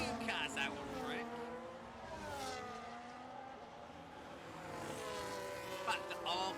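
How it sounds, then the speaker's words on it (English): Several race cars in a racing video game lap a virtual Silverstone, engines rising and falling in pitch as they pass, with a commentator talking over them. "We've got quite a few cars out on track."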